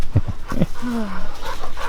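Puppies give short yelps and whimpers with a thin whine in a home setting, close and fairly loud, brief bursts over a couple of seconds.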